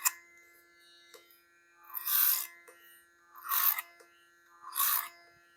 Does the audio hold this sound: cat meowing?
no